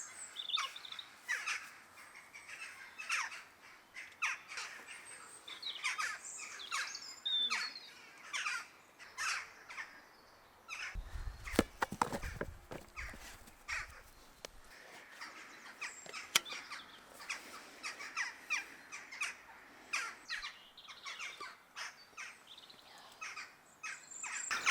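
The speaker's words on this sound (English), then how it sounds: "We have a lot of crows in our garden because they love roosting in like the big larch trees at the bottom of the garden" Crows caw repeatedly in a garden with big larch trees where they roost: many overlapping calls, some near and some farther off, steady throughout, with a brief rumbling noise midway.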